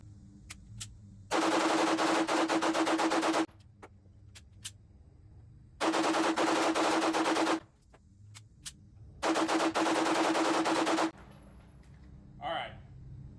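An HK VP9A1 pistol with a GR8 port fires during a 650-round reliability test at a range, with a few sharp single shots between three long, dense stretches of loud rapid firing.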